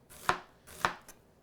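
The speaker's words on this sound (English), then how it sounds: "Showing you cuts on all sides of the onion." Knife slicing an onion on a flat cutting board, two crisp chopping knocks about half a second apart, close and clear with no talk.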